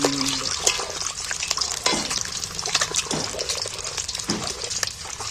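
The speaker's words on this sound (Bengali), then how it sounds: "এবার তেলের মধ্যে দিয়ে একটু হালকা করে নাড়াচাড়া করে নিই খুব লাল টুকটুকো করে ভাজবো না" An egg dish stirred lightly in hot oil in a pan, with continuous sizzling and gentle scraping strokes of the spatula, close and steady without talk.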